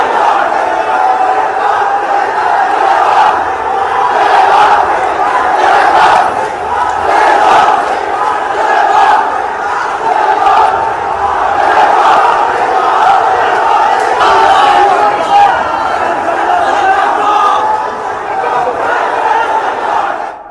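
A street protest crowd in Dhaka chants in loud, rhythmic unison, voices surging in repeated waves with steady crowd noise beneath, continuing throughout.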